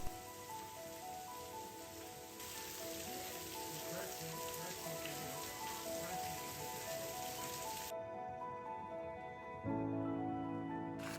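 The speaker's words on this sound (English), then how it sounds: "This is rain that's totally different than what we get in the winter because it's electric storms, thunder, lightning" Monsoon rain pours steadily in Arizona during a summer electrical storm, a dense, even hiss of drops on soil and surfaces that continues throughout, with a brief shift in tone near the end.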